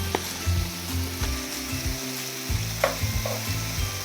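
Soy sauce sizzles and crackles in a hot pan while ramyun jjamppong with shrimp cooks, a steady close frying hiss broken by stirring scrapes and clinks.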